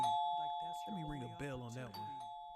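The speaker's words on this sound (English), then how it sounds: "Let me ring a bell on that one." A doorbell-style bell chime rings as a steady tone under someone talking, sustained through most of the moment.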